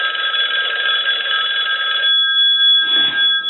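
A single slot payphone with a redesigned ring circuit rings its bell loudly and close, one sustained metallic trill for about two seconds that then fades into a shorter, weaker jangle.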